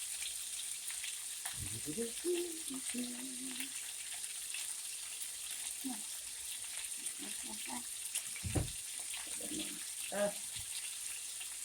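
Fried rice sizzles in a pan with a constant, close hiss of frying, while a voice speaks briefly now and then over it.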